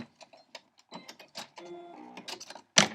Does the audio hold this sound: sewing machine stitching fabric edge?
yes